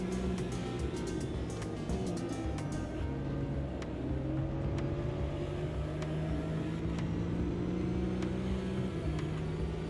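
A Porsche race car in a sim racing game accelerating hard, its engine note rising steadily through the gears in one loud, continuous run with faint clicks along the way.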